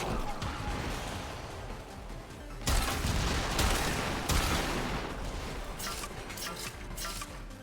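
Czar weapon firing in the Warframe video game, a dense continuous barrage of loud cracking, clanging shots with heavier bursts midway, no talking over it.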